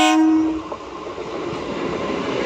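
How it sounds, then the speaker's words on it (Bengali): A train coming from Howrah on the Tarkeswar–Bishnupur line passes close by, a loud horn blast at the start giving way to a steady rushing rumble of wheels and cars. "হাওড়া থেকে ট্রেনটি আসছে"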